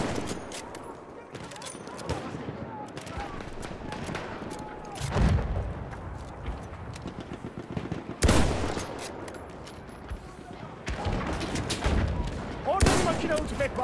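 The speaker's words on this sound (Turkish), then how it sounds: "Orada bir makinalı tüfek var." Machine-gun fire rattles through a Battlefield 1 battle on the Suez Canal map, with sustained bursts and distant shooting punctuated by several loud, close blasts. Voices speak faintly beneath the gunfire.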